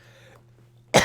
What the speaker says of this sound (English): that voice is literally making me cough